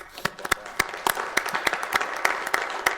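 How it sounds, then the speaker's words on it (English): Scattered claps from a small group at a Fargo City Commission meeting, honouring city crews: distinct separate hand claps in an uneven rhythm, moderately close, fairly sparse rather than a full ovation. "I want to give them a round of applause for all their hard work."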